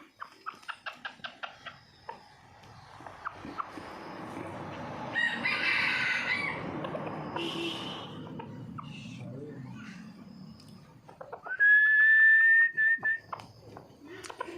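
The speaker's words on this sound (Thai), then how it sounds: "เป็นแม่ไก่ลูกผสมสีเหลืองๆเลยนะครับตัวนี้" A rooster crows loudly and close, with a long sustained call near the end, following bursts of clucking and rustling amid a bit of speech, around a yellow crossbred hen.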